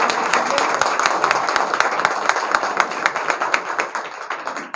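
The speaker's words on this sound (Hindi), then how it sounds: "एक बार जोरदार तालियों के गड़गड़ाहट से" Loud, dense applause from a sizable crowd at a political rally in Deoband, India, many hands clapping continuously, with a few sharper claps standing out as it slowly tapers.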